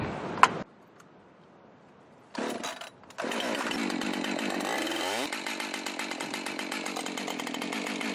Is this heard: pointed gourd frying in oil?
no